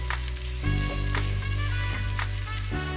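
Small cubes of diced ham hit a hot pan for egg fried rice and fry with a loud, steady sizzle, close up, with a few clicks and scrapes as the mixture is stirred.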